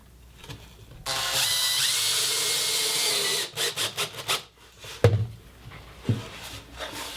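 A corded drill drives self-tapping screws down through a plywood panel into rails underneath, giving a sustained whirring grind for a couple of seconds, then short bursts and a few clicks and knocks as the driving finishes.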